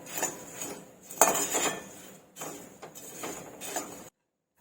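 Ragi puffed rice chivda gets tossed and mixed with salt in a pan, giving loud close rattling scrapes of a spoon on metal in two bursts before it cuts to silence.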